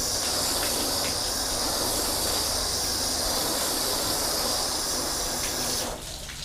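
Rinse water sheets and runs off a car panel freshly coated with graphene sealant, a steady close hiss of spray and flowing water that holds evenly for several seconds before suddenly easing off near the end.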